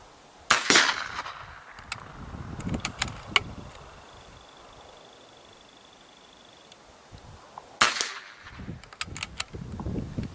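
A Hatsan Nova Compact 5.5 air rifle fires at targets, which pop, giving sharp cracks and snaps in two clusters several seconds apart over a steady outdoor hiss, with faint clatter between the shots.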